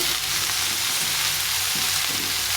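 Pumpkin pieces sizzle and fry steadily in a hot pan for a mixed-vegetable ghonto, with an even, continuous hiss, close and loud and without a voice.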